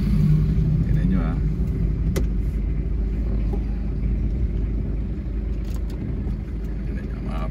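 Steady low rumble of slow, congested street traffic in Baguio, Philippines, with idling cars and passing vehicles heard close by and continuously, occasional small clicks and thumps over the drone.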